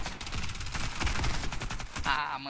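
Rapid automatic gunfire in the online shooter game Warface, a dense burst of shots close by, followed by a voice speaking at the end.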